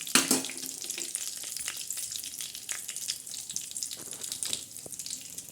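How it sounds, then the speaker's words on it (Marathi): Grated coconut roasting in a pan in a home kitchen, a soft steady sizzle and rustle with occasional scraping stirs, fairly quiet and without speech. "आता हे खोबरं चांगलं लालसर भाजतंय"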